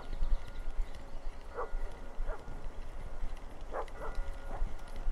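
Dogs bark in the Russian Fishing 4 video game, several short distant barks in scattered pairs over a noisy outdoor background, with no talk over them.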